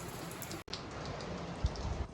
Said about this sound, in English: it's just started chucking it down with rain